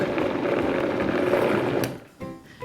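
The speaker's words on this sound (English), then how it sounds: "put this on the blender and mix it until it's just combined" A blender whirs steadily, mixing a coconut frozen fruit bar mixture, for about two seconds before stopping abruptly, followed by a few light clatters.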